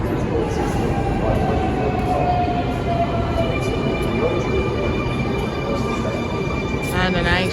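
A Sydney Waratah Series 1 A set train at Circular Quay station makes a loud, continuous rumble with metallic wheel squeal and rising tonal whine.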